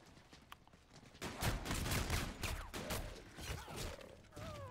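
Rapid gunfire from a Call of Duty Zombies match, shots fired at several zombies at once in dense overlapping bursts that grow louder and stay steady through the middle, with game sound effects layered underneath.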